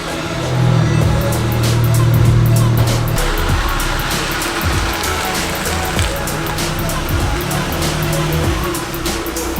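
A car rolls along on newly installed 326Power aftermarket wheels, a steady broadband road and engine rumble that holds close and even throughout, with no talking over it.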